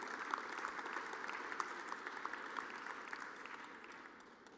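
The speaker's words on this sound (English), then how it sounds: "So again, a round of applause for the leadership of the institution." An audience at a university athletics award show applauds, a steady, fairly distant patter of many hands with occasional sharper claps, gradually tapering off.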